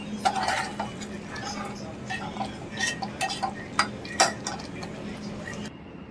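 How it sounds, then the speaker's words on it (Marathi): Potatoes being stirred into a prawn masala curry in a pan, a spoon scraping and clinking against the metal in irregular knocks over a steady background hum, with a voice talking faintly at times. "बटाटा टाकायचा आणि ते सगळं छान असं परतवायचं"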